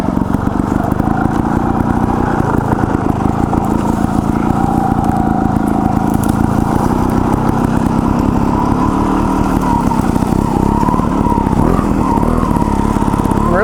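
A Gas Gas TXT 280 trials motorcycle chugs along at low revs, its single-cylinder engine putting out a steady, loud, close thumping that swells slightly in pitch, with no voices.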